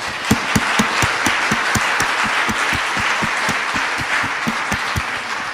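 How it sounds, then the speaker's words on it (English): Audience applause following a Christmas concert by a pipes and drums band, a steady dense wash of many hands clapping, loud and sustained with a few sharper claps standing out near the front. "I think we should give another round of applause for an amazing evening."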